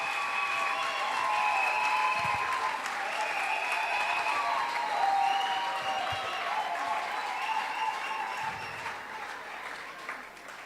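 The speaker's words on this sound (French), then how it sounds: "Can you clap for Jesus now?" A church congregation at a thanksgiving service applauding, a dense, sustained wash of clapping from many hands that tapers slightly toward the end, with a faint voice or two beneath.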